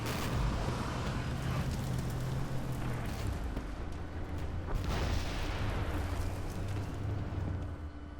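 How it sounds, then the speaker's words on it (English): Dense, continuous rumble and crackle of battle explosions in the tank game Armored Warfare, a steady heavy wash of blasts and debris noise filling all eight seconds with no clear gaps. "And all the explosions everywhere, all around us right now"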